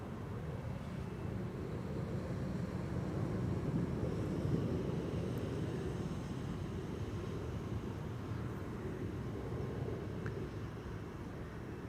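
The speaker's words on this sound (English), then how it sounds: "Bridge Hopper on behalf of KLM, flight 1019, going to Leeds" A KLM Embraer 190 jet takes off from Schiphol's Kaagbaan runway 24, bound for Leeds, giving a steady, broad engine roar that rumbles evenly from start to finish with no voices.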